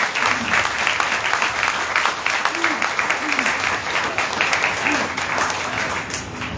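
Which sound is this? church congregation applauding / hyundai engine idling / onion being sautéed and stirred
church congregation applauding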